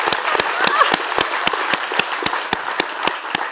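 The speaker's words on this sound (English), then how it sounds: "Could you stand up and turn around and let us applaud you?" An audience applauds the speaker's mother with dense, steady clapping from many hands, sharp claps standing out close by within a continuous wash of applause.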